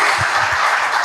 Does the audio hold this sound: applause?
yes